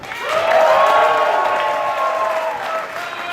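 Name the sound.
audience applause for volunteers and staff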